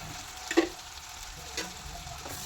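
Quiet, soft sizzle of tomatoes and turmeric frying in a pan, broken by a couple of brief scrapes as a spoon stirs the mixture.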